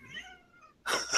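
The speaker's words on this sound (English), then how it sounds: "What was that? This is my cat." A domestic cat meows once, a clear nearby wavering cry, followed by a short burst of louder rustling noise.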